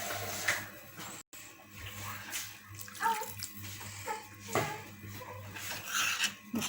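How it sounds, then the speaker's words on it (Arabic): Water being poured into a pan while cooking at home, a steady trickling, splashing stream that runs throughout at moderate level, with a brief dropout early on. "غندير شويه كيك تاع الماء"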